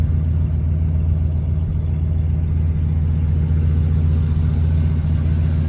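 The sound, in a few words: car engine idling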